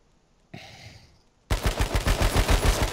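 Gunfire in the battle-royale shooter H1Z1 King of the Kill: a brief crack around half a second in, then a loud, steady burst of rapid repeated shots filling the second half.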